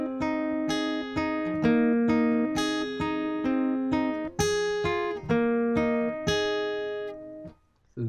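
An acoustic guitar strums the intro chords of a song in a steady rhythm of repeated, ringing chord changes, played close and alone, with a brief pause near the end.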